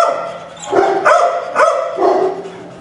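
A shy Shetland sheepdog gives four sharp, close barks in an even rhythm, each with a slight yip to it, and there is no talking between them.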